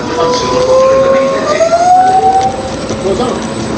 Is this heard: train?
yes